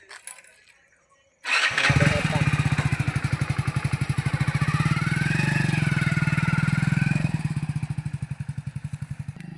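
A motorcycle engine starts up after a quiet moment and idles loudly nearby with a steady, rapid chugging rhythm.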